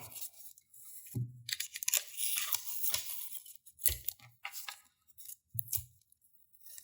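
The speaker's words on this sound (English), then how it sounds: "And tape the top." Packing tape pulled off the roll and pressed onto a cardboard shipping box of graded trading cards, several sharp tearing screeches in separate bursts with short pauses between, close and fairly quiet.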